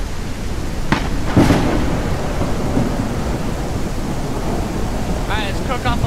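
Thunderstorm with steady rain in the tribal survival game Native Hunter, a dense constant wash of rainfall with a sharp thunder crack near the start, brief game sound effects near the end.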